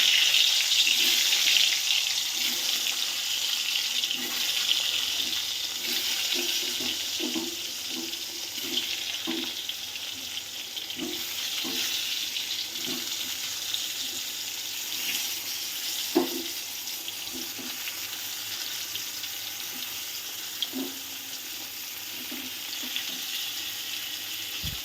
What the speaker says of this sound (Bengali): এবার আমি নুন হলুদ মাখানো যে পটলগুলো ছিল ওগুলো ভেজে নেব